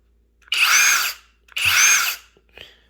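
Cordless drills, one brushed and one brushless, spun up twice in turn with a whining motor hum; each burst runs about half a second, close and loud, with a faint trailing blip after.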